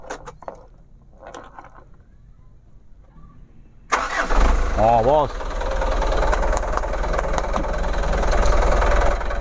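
After a few seconds of quiet murmuring, the diesel engine of a 2019 Mitsubishi Canter truck (125 PS) cranks and catches abruptly, then settles into a loud, steady idle with a brief voice over it.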